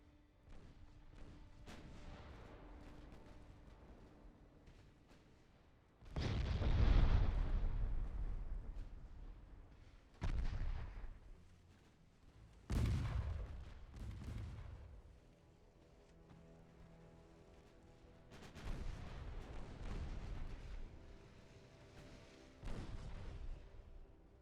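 Naval gunfire in the Ultimate Admiral Dreadnoughts warship game: several heavy booming salvos at irregular intervals, each a loud low blast with a rumbling decay, over a steady background hum.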